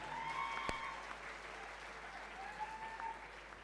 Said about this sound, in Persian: تشویق کنید خوشگله رو